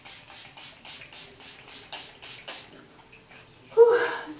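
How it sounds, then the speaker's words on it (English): A rose water facial spray mists in a quick rhythmic series of soft, close hissing bursts, followed by a brief, brighter puff near the end. "I like to finish my face off with this rose water spray"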